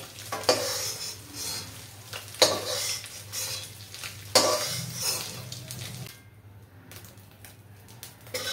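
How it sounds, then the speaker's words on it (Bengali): Soya chunks fry in a wok with a crackling sizzle while a spatula scrapes and stirs in repeated bursts, metal clinking against the pan, before the frying dies down to a quieter hiss. "ভুজিগুলো হয়ে গেছে, এবার আমি ভুজিগুলোকে তুলে নেব"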